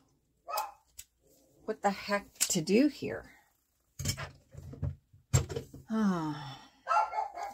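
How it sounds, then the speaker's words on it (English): A dog barks at a cat somewhere nearby, a few short sharp barks breaking through between stretches of a person talking close by. "I guess my dog is barking at a cat"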